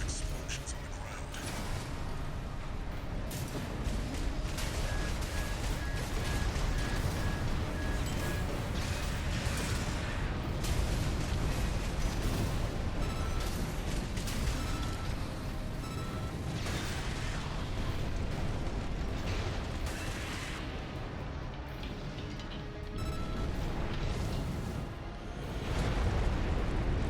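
Heavy booming explosions and rumbling combat noise from the video game Armored Core VI: Fires of Rubicon continue loudly throughout, with bursts and blasts piling on top of each other.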